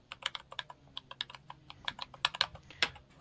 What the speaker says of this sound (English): That keyboard clack